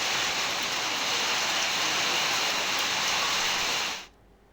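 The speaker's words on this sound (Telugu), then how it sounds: "ఉరుములు మెరుపులతోటి కూడిన వాన దంచుకొట్టింది" Heavy rain pounds down in Hyderabad during a thunderstorm, a dense, loud, even hiss of downpour that cuts off abruptly near the end.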